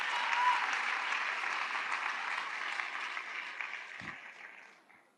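A crowd at a neighbourhood event applauds the mayor, dense steady clapping that starts strong and gradually tapers off over about five seconds.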